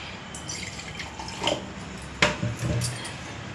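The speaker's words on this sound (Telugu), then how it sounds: "వేడి నీళ్ళు పోస్తున్నాం అనుకోండి." Hot water is poured into a mixer jar of ground fried curry leaves for a pickle: a few soft splashes and drips, faint and close, with light clinks.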